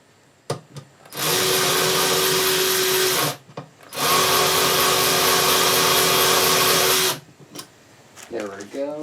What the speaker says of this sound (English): let's get these bolts off.